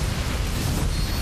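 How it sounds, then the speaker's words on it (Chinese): Siege tank shells pound a roach army in StarCraft II, a dense, continuous low rumble of booming impacts and bursts layered together at loud, steady level. "但是坦克一轰，还有掠夺者在打"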